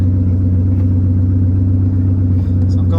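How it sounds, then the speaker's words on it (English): Idling engine of an engine-swapped Aston Martin DB9 with a deep, steady low hum and a slight rise near the end; a voice speaks over it. "But the good news is, I rev it now."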